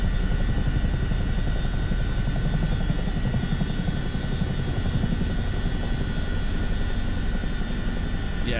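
Steady, droning rotor and turbine noise from a CH-47D Chinook helicopter taxiing in Microsoft Flight Simulator 2024, a continuous, even hum with no pauses.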